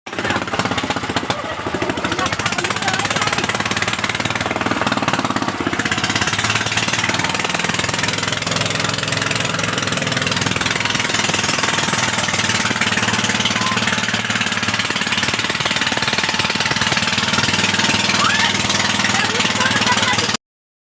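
Motorboat engine running steadily and loudly beneath a passenger aboard a boat ride, a dense continuous drone with a rattling edge that holds for about twenty seconds without a break.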